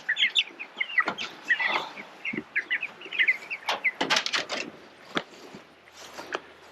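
Broiler chickens moved from a brooder to a chicken tractor, clucking and chirping in a busy, overlapping chorus close by, with a few sharp bangs mixed in.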